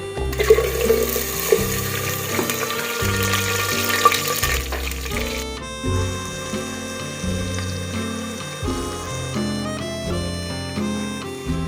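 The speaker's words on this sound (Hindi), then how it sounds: "2 कप ऑयल को मीडियम फ्लेम पे गर्म कर लेंगे और पेस्ट हमारा इसके अंदर ऐड करेंगे।" Onion, tomato, green chilli, ginger and garlic paste fries in about two cups of hot oil over a medium flame, a steady crackling sizzle running beneath louder background music.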